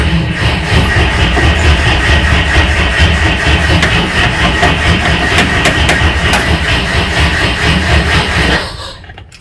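A UAZ 469 engine with a carburettor and fuel pump fault runs loudly close by, a dense steady rumble that cuts out and fades near the end.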